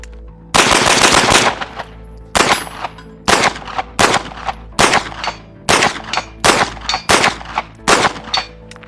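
APC-9K submachine gun firing in repeated short bursts, about nine sharp loud volleys spaced under a second apart, with metallic clangs of the reload mechanism before the shooting, outdoors and close up.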